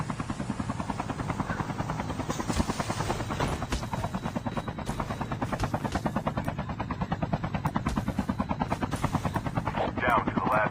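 Aircraft flying overhead in a battle royale video game, a steady rotor-like drone with rapid pulsing that holds loud and constant throughout, with brief sharp bursts like gunfire mixed in.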